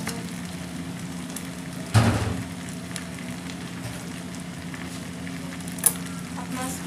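Spaghetti noodles frying in a pan, a steady close sizzle throughout with a brief louder scrape and stir near the start and a sharp tap later.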